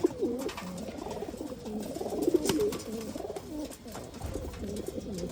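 Pigeons kept for sale in Bangalore coo in repeated low throaty rolls, several birds overlapping at moderate distance with faint background noise.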